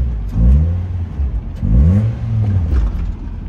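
A project car's engine is free-revved twice, each blip rising sharply with a throaty intake roar and then falling back, loud and close with no talk.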